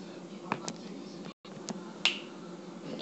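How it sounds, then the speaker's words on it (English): Sharp finger snaps, a couple of crisp close clicks over a faint steady room hiss. "I'll snap my fingers and I'll have it."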